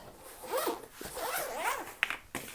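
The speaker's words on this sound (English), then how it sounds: "zip it up, and you're good to go." Zipper being run closed on a fabric pouch holding watercolor painting supplies, two or three close, raspy zipping strokes with a light click near the end.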